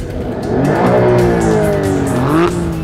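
A McLaren in race mode revs hard at a drag race, a loud, close engine note climbing and falling in pitch over a few seconds with no talk.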